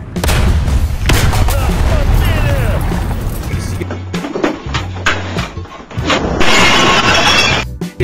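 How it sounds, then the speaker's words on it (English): In a tank battle video game, the ammunition load of a Soviet T-35 heavy tank explodes in loud, crashing bursts of shattering booms and debris-like clatter, rising and falling over several seconds with a brief voice in the mix. "Ammunition load exploded."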